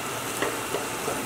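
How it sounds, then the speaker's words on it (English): Noodles cook in a bubbling hot pot soup, a continuous close hiss and sizzle with a few soft bursts of bubbling. "Noodle's cooking in here."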